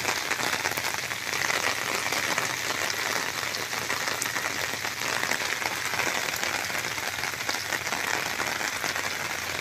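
Torrential rain from typhoon Bebinca pours over Burias Island in an unbroken, dense roar of drops striking surfaces, steady and loud across the whole stretch without any voices.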